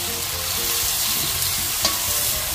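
Tomatoes stirred into bottle gourd and sardines frying in a pan, a loud close sizzle with scraping stir strokes and one sharp clack of the utensil partway through, no voices.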